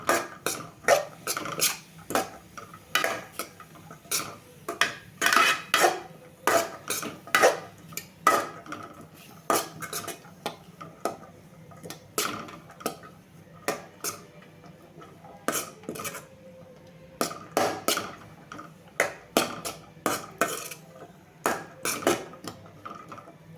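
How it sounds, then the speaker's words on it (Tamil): Repeated sharp clatters of a spatula scraping and tapping a pan as radish is stirred and sautéed, irregular strokes over a low sizzle, close up. "முள்ளங்கியை நல்லா வதக்கி விட்டுக்கலாம்"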